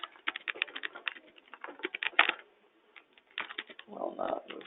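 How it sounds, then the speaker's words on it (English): Someone types a note on a computer keyboard in quick, uneven bursts of close key clicks. There is a brief pause, and a voice speaks over the last second. "We can type in a note here that says,"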